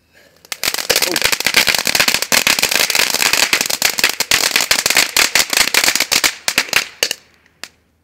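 Category 1 consumer firework grenades explode nearby in a dense, rapid crackling barrage of sharp pops lasting several seconds before thinning to a few final scattered bangs.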